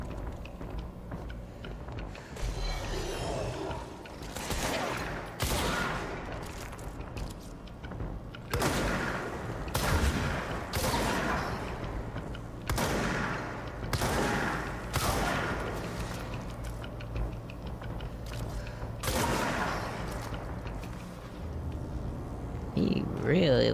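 Shotgun blasts from a video game ring out in a series of sharp, loud booms spaced a second or two apart, with a steady game soundtrack beneath and some talk over it.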